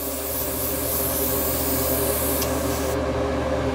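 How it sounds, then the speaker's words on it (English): An airbrush is back flushed and then sprayed out, a steady, close hiss of rushing air holding constant before cutting sharply near the end. "press the trigger down, and back flush the airbrush"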